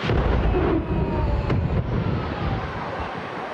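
A 120-metre power plant chimney at Tongxiao Power Plant is demolished: a heavy, rumbling boom roars loudly and keeps thundering for several seconds as it crashes down, with no talking.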